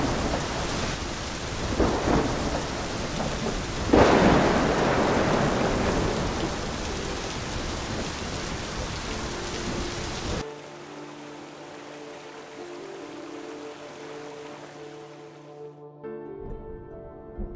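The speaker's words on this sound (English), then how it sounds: "And we start to now have thunderstorms, and this is what gives us our spectacular lightning, flash floods" A monsoon thunderstorm brings heavy rain hissing steadily, with loud rolling thunder swelling about a third of the way in. Midway the storm cuts away and calm tonal music with a low hum continues to the end.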